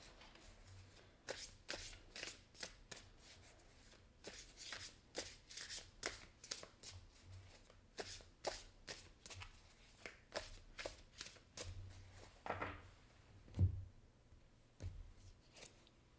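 Tarot cards are shuffled by hand in quick, quiet riffling bursts, one after another, with a few faint thumps as the deck is handled.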